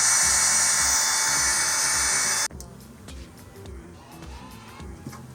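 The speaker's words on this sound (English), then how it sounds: "Currently changing the oil with this drill pump." A drill-powered pump whines loudly and steadily while draining oil from a Volvo Penta marine engine, then cuts off abruptly, leaving quiet rattles and faint handling noises.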